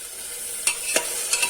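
A thick papaya halwa mixture is stirred in a frying pan, with three quick scraping strokes over a soft, continuous sizzle.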